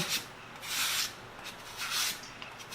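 Papaya being shredded on a multipurpose hand grater brought from China, heard as a few slow scraping strokes, each a soft broad rasp with quieter pauses between, close by and alone.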